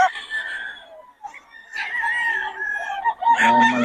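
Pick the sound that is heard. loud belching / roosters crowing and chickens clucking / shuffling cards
roosters crowing and chickens clucking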